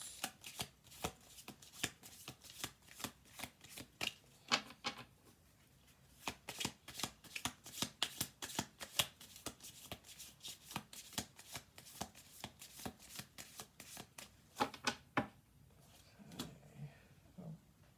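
Tarot cards being shuffled close by, repeated quick riffling bursts in a steady rhythm with brief pauses between rounds, quiet and crisp.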